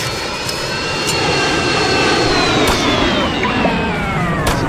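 Steady roar of an airplane engine in the Roblox game MadCity, loud and continuous with a slowly shifting whine, no voices.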